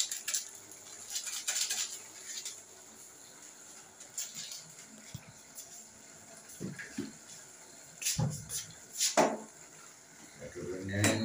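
A spoon stirs a radish, soybean, potato and egg curry in a pan, giving intermittent scraping and clinking bursts close by, with a voice speaking briefly near the end.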